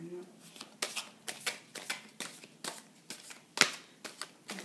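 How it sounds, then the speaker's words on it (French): Tarot cards drawn and shuffled from a deck, a series of soft papery flicks and slides in an irregular rhythm, close and quiet, with a sharper snap near the end. "je vais tirer donc 3 cartes"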